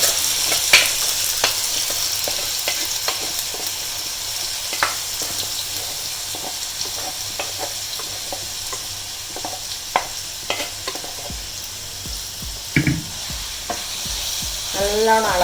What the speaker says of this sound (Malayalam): പൊട്ടിക്കഴിഞ്ഞാൽ ഈ കൂന്തലെടുത്ത് ഇതിലേക്ക് ഇടും.